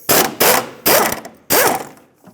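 A ratchet wrench works loose the 10mm upper rear shock bolts on a 2012-2020 Ford Focus, with four loud, close bursts of rapid clicking separated by short pauses.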